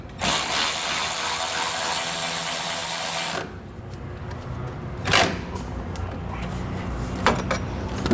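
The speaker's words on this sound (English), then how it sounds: "we can tighten it down using a 6mm Allen key" A 6mm Allen key drive is used to tighten a bolt on a SumoSprings Solo helper spring mount on a 2011 GM truck. It gives a loud, continuous ratcheting clatter for about three seconds, then quieter scattered clicks and taps.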